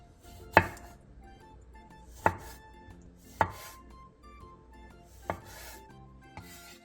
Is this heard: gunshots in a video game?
no